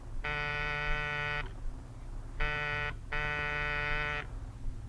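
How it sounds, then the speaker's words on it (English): A harsh electric door buzzer rings three times, one long press, then a short one and another long one, steady and fairly loud against a low background hum. "Buzz the buzzer."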